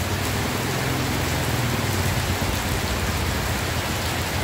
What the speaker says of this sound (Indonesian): karena hujan tidak berhenti-berhenti di kota Batam